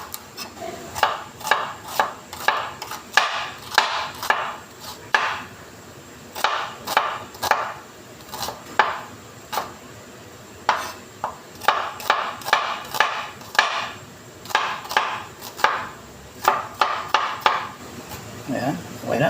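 Onions chopped with a knife on a board for Filipino adobo, a steady run of sharp close taps in quick bursts with short pauses between them.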